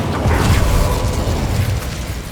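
Incendio fire spell cast in Hogwarts Legacy, a loud, sustained whooshing burst of flame with a deep rumbling roar that holds steady for about two seconds before easing slightly at the end.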